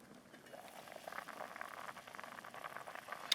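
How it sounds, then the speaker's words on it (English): Sliced vegetables and sugar snap peas bubble steadily in a pot of water at a campsite, a continuous soft roiling boil with faint popping throughout, close and moderately quiet, with no talking. "So the veg have been boiling away nicely for about 3-4 minutes."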